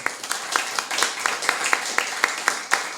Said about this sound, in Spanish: Roberto, un fuerte aplauso para nuestro primer expositor.